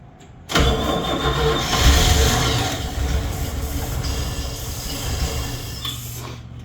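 An old car engine in a shed cranks and catches after being fed flammable fluid. It turns over loudly with a churning mechanical rumble that holds on as a rough idle, with no voices.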